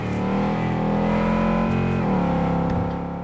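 A worn-out old car in Cyberpunk 2077 revs its engine with a steady, loud droning hum that dips and shifts pitch partway through, running continuously and close with no talking.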